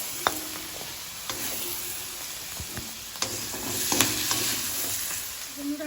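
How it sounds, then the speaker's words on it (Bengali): Green peas frying with ghee in a pan for vegetable pulao, giving a steady close sizzle broken by scattered clicks and scrapes of stirring, with no talk. "তার সাথে মটরশুঁটিগুলো দিয়ে দিলাম। একসাথে ভেজে আমি এগুলোকে তুলে রাখবো।"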